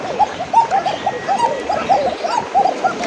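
Domestic pigeons cooing over and over in a loft of Bangladeshi breeds, with soft rolling calls overlapping in a steady, close, busy chorus.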